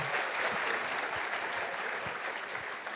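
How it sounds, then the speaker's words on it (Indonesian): A large audience at a university talk-show gathering gives a sustained, even wash of clapping that stays steady throughout. "Tepuk tangan untuk kita semua."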